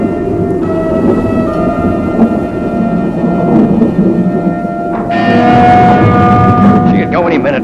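A loud thunderstorm with heavy, continuous rumbling and a steady wash of rain, with sustained tonal ringing layered over it and a voice speaking briefly.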